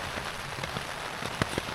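Heavy rain pelting down onto a tent on a bikepacking trip to the Scottish coast of Mull, a dense close patter with scattered louder drop hits, with no talk.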